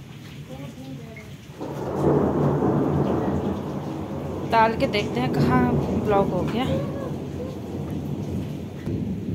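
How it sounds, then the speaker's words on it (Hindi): Heavy rain pours steadily, with low thunder rumbling beneath it. Someone talks over the downpour through the middle of the stretch. "क्या जबरदस्त मौसम है, क्या जबरदस्त बारिश हो रहा है।"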